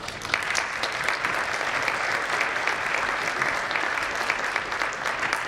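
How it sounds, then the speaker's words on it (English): Audience applause at an evening string concert for the orchestra director, who is also playing piano, with steady dense clapping from a sizable crowd, moderately near, unbroken throughout. "Let's give her a round of applause."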